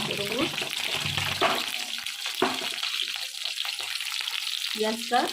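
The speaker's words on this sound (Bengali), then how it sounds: "আমার এখানে মাছটা ভাজা হয়ে গেছে" Fish sizzles and crackles in hot oil in a pan, a continuous close frying hiss with occasional stirring clatter and brief faint voice fragments.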